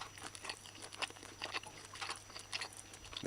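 Someone chews tenderized beef and zucchini close to the microphone: soft, irregular wet crunches and mouth sounds repeating for a few seconds, quiet, with no talking.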